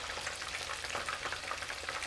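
Chicken wings frying in hot oil for a crispy Nagoya-style tebasaki double fry, giving a steady, dense sizzle with fine crackling pops throughout, close and continuous with no talk.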